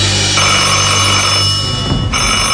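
Telephone bell ringing loudly and continuously up close, a steady trilling ring that fills the short stretch without any talk.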